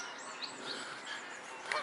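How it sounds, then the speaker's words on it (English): Canada geese honk at a park lake, a few short nasal calls at moderate distance over a steady outdoor background hiss. "There's always Canada geese, you can't get rid of them."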